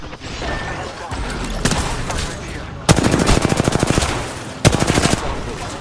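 Video game gunfire, repeated loud bursts of rapid automatic shots separated by short pauses, with a faint voice and background game sounds underneath.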